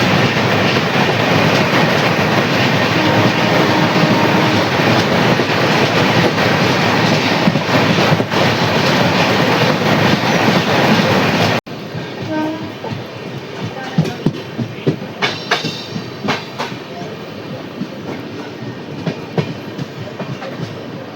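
The Mahamana Express, Indore–Veraval train no. 19320 hauled by a WAP-7 electric locomotive, rushes at full speed between Rajkot and Junagadh, a loud dense roar of wheels and wind that drops abruptly to a quieter rattling clatter with rhythmic clicks.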